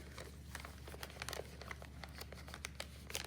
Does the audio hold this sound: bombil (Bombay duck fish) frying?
no